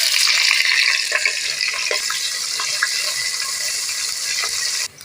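Onions and green chillies fry in hot oil and ghee for chicken biryani, a steady, loud, hissing sizzle with scattered small crackles that runs throughout and cuts off abruptly at the end. No voices are heard.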